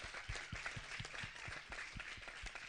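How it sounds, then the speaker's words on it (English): Audience applause at a faith conference session, steady dense clapping from a crowd filling the room without pause. "Another round of applause."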